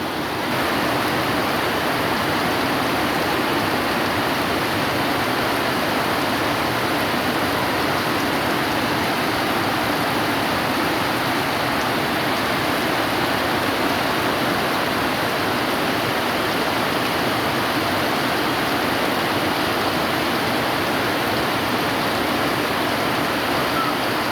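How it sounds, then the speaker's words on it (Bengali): Heavy rain pours down in a steady, dense roar that stays loud and unbroken throughout, with no voices over it. "এত জোরে বৃষ্টি হচ্ছে আমাদের এলাকায়, কঠিন বৃষ্টি হচ্ছে"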